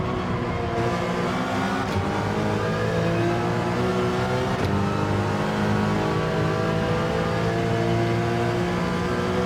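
Porsche Cup race car engine in a racing video game, a continuous loud high-revving whine with steady harmonic tones climbing through the gears, brief shift dips punctuating it, with no voices over the sound.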